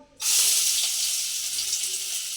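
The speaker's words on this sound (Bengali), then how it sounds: "তেল গরম হয়ে গেছে, আদা কুচি দেবো" Chopped ginger hits hot oil and bursts into a loud, sudden sizzle that holds as a bright, steady hiss with light stirring.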